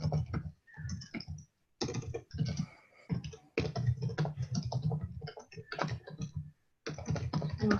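Steady bursts of typing on a computer keyboard, close and fairly loud, with short pauses between runs of rapid key clicks as a welcome message is written.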